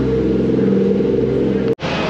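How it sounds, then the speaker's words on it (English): A Bayside Blue Nissan Skyline R34 with a big single Greddy turbo and HKS V-cam idling and revving nearby, a loud droning engine tone with steady harmonics, broken by a brief drop near the end. "Bayside blue R34 with a big single Greddy turbo with V-cam, HKS V-cam."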